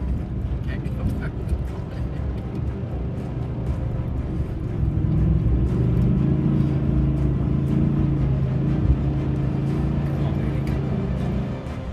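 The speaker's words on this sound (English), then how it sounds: "All four wheels were now spinning wildly, with nothing to grab onto." A vehicle's engine revs and roars as all four wheels spin without traction on a loose road, a continuous rumbling drone that swells midway, with voices speaking over it.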